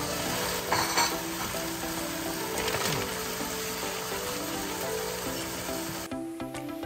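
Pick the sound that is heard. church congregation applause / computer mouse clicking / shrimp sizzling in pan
shrimp sizzling in pan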